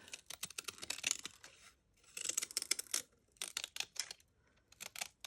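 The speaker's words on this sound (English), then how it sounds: "see how easily it cuts with scissors? And this is several layers." Scissors snip through several stacked layers of craft material, close and crisp, in quick clusters of sharp cuts separated by short pauses.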